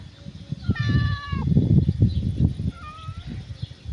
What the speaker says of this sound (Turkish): ilk kez bir kedi bana hırladı.